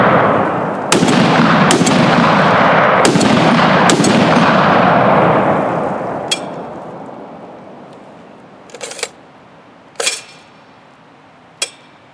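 Pistol shots at a shooting range with a 9x18 Makarov-calibre PM63, a quick string of loud, sharp reports with echo trailing off, then a few isolated clanks and clinks as the noise fades.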